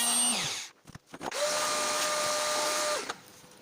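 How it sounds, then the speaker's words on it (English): A power router carves the heel of a guitar neck in a build-off: a short whine spins down, then after a few brief bumps the cutter runs at a steady, loud, high-pitched whir for about two seconds before stopping. "let's get the router and let's get around."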